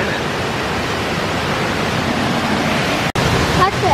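Waterfalls in New River Gorge National Park, West Virginia, send up a steady, loud, broadband rush of falling water close by, unbroken except for a brief cut near the end.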